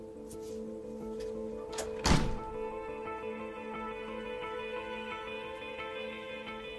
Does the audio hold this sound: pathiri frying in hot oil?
no